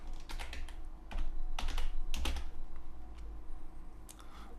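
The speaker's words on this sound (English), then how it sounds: "I type in table 1 just so that you see how it works." Clicky typing on a computer keyboard, several quick bursts of keystrokes, close and fairly loud, over a low background hum, with no talk.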